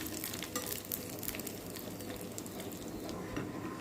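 About a dozen cut dried red chilies fry in hot oil, a steady dense sizzle with light crackles and occasional scraping, close and constant throughout.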